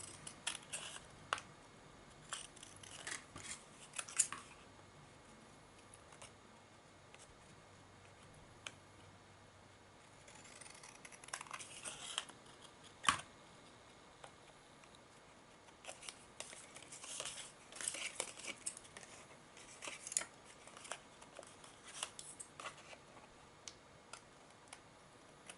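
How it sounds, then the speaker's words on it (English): Scissors trim a herbalist specimen pack card in short, crisp snips and clicks that come in scattered bursts with quiet gaps between, close and fairly faint. "We can trim him off. Again, scissors or craft knife"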